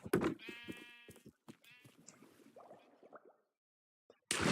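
Sheep bleating in a Minecraft wool farm, several wavering bleats close together and fairly loud, then quiet before a short burst of noise.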